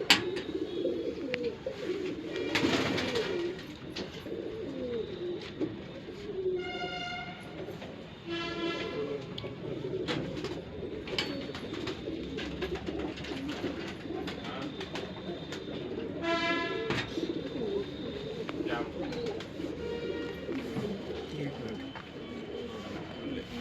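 Shahjahanpuri breed pigeons cooing and fluttering in a loft, mixed with passing train noise and several horn blasts, while people talk throughout.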